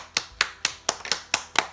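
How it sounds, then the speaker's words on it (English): A child claps hands seven times in a steady rhythm, sharp close claps spaced about a quarter second apart, with no voices. "Clap for yourself."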